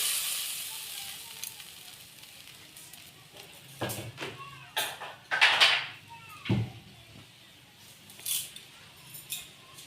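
Flattened rice with green chilies and vegetables fries in a pan, giving a soft, steady sizzle broken by intermittent clanks and scrapes of a stirring utensil.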